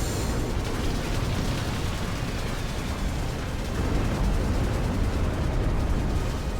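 Continuous rumbling bombardment in the strategy game Ashes of the Singularity, dense overlapping explosions and booms forming a loud, unbroken roar for several seconds with no voices.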